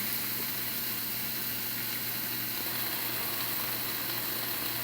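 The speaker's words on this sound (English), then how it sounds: "saute these onions for a few minutes until they're close to translucent" Onions saute in a pan for curried lentils, giving a steady, dense sizzle and crackle with no pauses and no voices over it.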